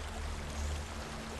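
A waterfall in Hellblade: Senua's Sacrifice rushes with a steady, dense low roar of falling water, constant and fairly close, with no talking over it.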